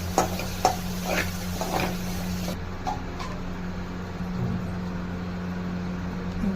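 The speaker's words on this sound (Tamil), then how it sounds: "இப்போ ஒரு கைப்பிடி புதினா இலை இதையும் சேர்த்து எல்லாம் வதக்கிக்கலாம். நல்லா வதங்கணும்." Mint leaves sautéing in a pan for pudina chutney, a soft continuous sizzle under a steady low hum, with several spatula scrapes and taps early on that thin out as the frying settles.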